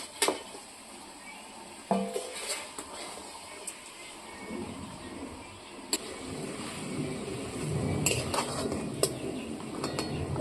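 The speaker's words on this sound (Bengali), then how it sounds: "একটু মশলায় কষিয়ে নেব।" Spices fried and stirred in a pan for a thin Bengali shol fish curry with homegrown mango, utensils clinking against the pan in scattered knocks over a low sizzle that thickens in the second half.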